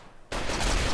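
Sudden burst of rapid gunfire aimed at an insect hive during an infestation in RimWorld, a dense, loud volley erupting after a brief quiet moment and continuing steadily.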